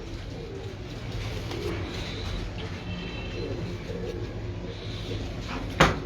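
Sialkoti pigeons coo softly in a loft, their low, murmuring calls repeating over a busy background of rustling and shuffling, with a brief knock near the end.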